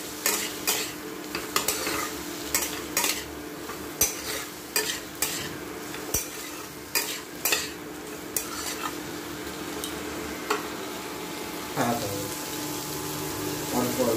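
Potatoes for aloo dum stir-fried with salt, turmeric and Kashmiri chili powder: a long run of quick spatula scrapes and knocks against the pan over an oily sizzle, close and busy, easing into a steadier frying hiss near the end.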